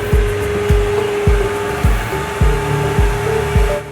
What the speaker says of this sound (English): Turn on the vacuum pump isolating switch.